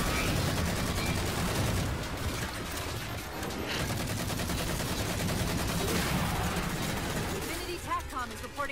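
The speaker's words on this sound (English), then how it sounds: "It's a fuel rod cannon." Fuel rod cannon and other weapons firing in the video game Halo 4, a continuous dense barrage of blasts and explosions with players talking over the gunfire.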